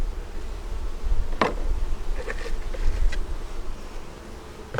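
Honey bees drone steadily at an open eight-frame hive during an inspection with a super, a close, continuous insect hum with a few sharp knocks and clicks of frames and equipment, no talk.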